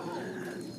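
An English Magpie pigeon coos softly and continuously in a close, steady low murmur, with faint background noise and no clear talk over it.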